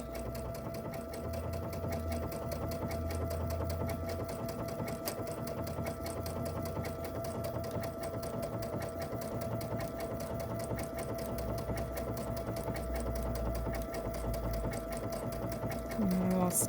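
A sewing machine stitching fabric for an appliqué owl pin cushion, a steady fast mechanical whirr and clatter running nearly continuously at close range, with a brief pause near the end.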